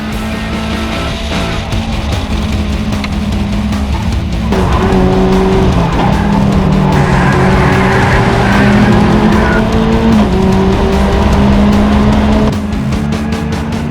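A race car in an EXR series race at Las Vegas spins out into the last turn, engines revving loud with sustained tire squeal and skidding, no talk.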